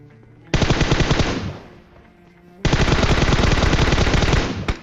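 M4 rifle gunfire in the PUBG Mobile video game: two loud, sustained automatic bursts, the first about a second long and the second longer, separated by a short quiet gap.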